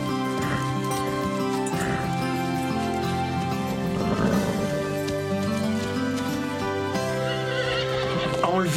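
Horse neighing among stable sounds, several whinnies rising and falling over steady background music, moderately loud and fairly close, with no talk.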